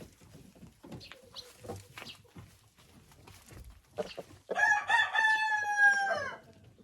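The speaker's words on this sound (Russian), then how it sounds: "С этими курочками у меня живет один петушок." A crested mixed-breed rooster living with a flock of hens crows loudly and close, one long rising and falling call in the second half, after a stretch of soft hen clucks and low talk.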